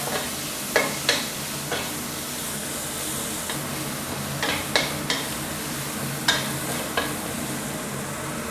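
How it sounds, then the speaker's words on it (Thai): Chili, garlic and shrimp paste are stir-fried for a glass noodle and water mimosa dish. A constant sizzling hiss is punctuated by repeated sharp spatula taps and scrapes against the pan at an irregular pace, with no voices. "ตามด้วยเครื่องผัดนะครับพริกกระเทียมกะปินะครับ ที่เราผัดเอาไว้นะครับ เอาลงไปได้เลย ผัดสักครู่นึงก่อนนะครับ"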